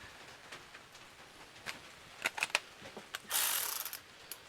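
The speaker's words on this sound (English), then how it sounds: "I'm going to use a ratchet to take these off" A hand ratchet clicks in short bursts while removing parts from a Ford Escape engine, then a longer run of rapid ratcheting near the end, close and fairly clear in a quiet workspace.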